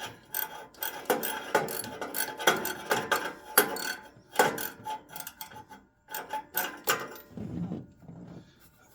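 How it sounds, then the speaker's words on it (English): A hand ratchet working a spark plug out of a 1970 Chevelle engine, rapid bursts of clicking pawl strokes in a close, uneven rhythm with brief pauses between pulls. "that one I'm gonna have to ratchet out of there"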